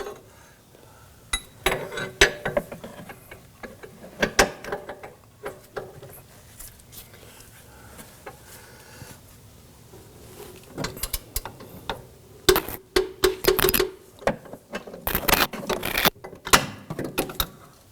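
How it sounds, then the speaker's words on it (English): Mechanical ratcheting clicks from a torque wrench tightening a rear upper control arm bolt on a 2005-2009 Subaru Legacy, coming in irregular bursts with sharper metallic clinks near the end, close and fairly loud. "Let's torque down that inner bolt to 42 foot-pounds."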